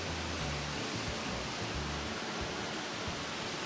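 Steady low rumble of Havasupai waterfall, a broad continuous roar heard from some distance below the trail, even and unbroken throughout.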